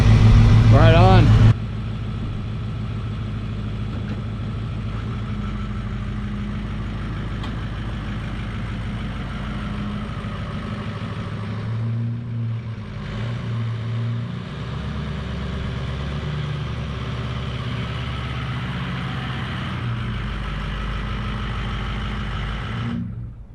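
A Ford 6.0 Powerstroke diesel truck with a coolant leak rumbles at a steady, close idle for a long stretch, the low engine drone holding even and briefly dipping midway.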